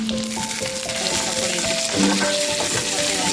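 Curry leaves, mustard seeds, cumin and dried chillies sizzling in hot oil for a dal tadka, a dense close crackling hiss with faint tonal squeals running through it.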